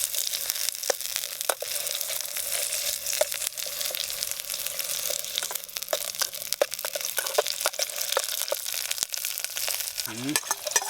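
Onion sautéing in a pan, a continuous crackling sizzle with frequent sharp pops and a few stirring scrapes, close and steady, no talking.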